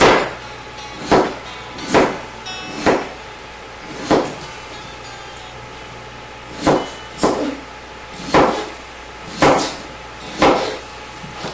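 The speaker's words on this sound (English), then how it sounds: "now I'm slicing away my last potato" Knife slicing potatoes for a potato pan dish, about a dozen sharp cutting knocks on a board spaced irregularly roughly a second apart, loud and close with no talk.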